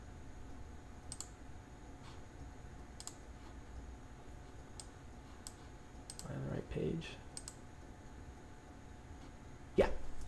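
Computer mouse clicks while setting up Roll20, a handful of sharp, faint clicks spaced irregularly over a quiet hum, with a short murmur of voice partway through.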